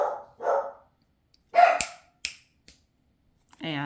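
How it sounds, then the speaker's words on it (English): A dog barks indoors in a few short bursts, some close and some fainter, with a longer whining yelp at the end and quiet gaps between the barks. "sorry about the dog barking"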